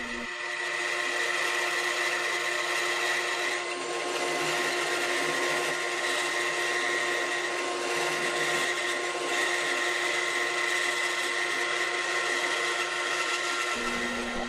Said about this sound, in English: Once the side is cut out, then I'll rotate the wood 90 degrees to saw out the front profile.